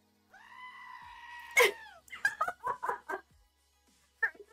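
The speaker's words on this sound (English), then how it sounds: "with the screaming goats" Screaming goats: one long, wavering bleat ends in a sharp shriek, followed by a quick string of short, choppy bleats and one last brief cry.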